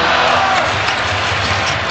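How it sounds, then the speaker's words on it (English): Basketball arena crowd at a Lakers–Jazz 2009 playoff game chanting "We want tacos," a loud, continuous roar of many voices filling the whole stretch without a break. "Crowd is chanting, "We want tacos.""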